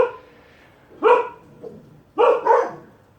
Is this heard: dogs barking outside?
yes